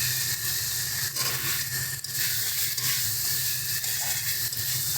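Pre-fried lentil dumplings (bori) dropped into a pan of softened tomato for a winter katla fish curry with cauliflower, giving a steady, close hiss and sizzle that carries evenly throughout.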